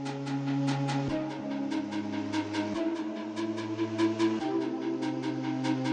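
A synth arpeggio on the Club Fog preset repeats in a steady bouncing rhythm over sustained low bass notes and chords in a full electronic mix, with no talking.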